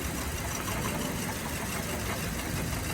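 A car engine idles steadily with one ignition coil unplugged during misfire diagnosis, giving a constant rough, broadband mechanical hum at moderate level with no clear change across the stretch and no talking.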